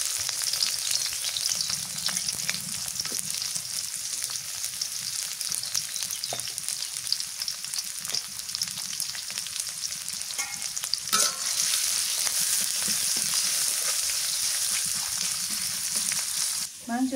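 Chopped onions sizzle and fry steadily in oil over a clay stove in a village kitchen, with occasional stirring scrapes and clinks, close and continuous without talk.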